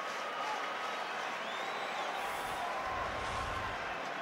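A loyal rugby crowd at an Ulster versus Glasgow match roars and applauds after a try, a broad, steady wash of distant cheering and clapping with a voice talking over it.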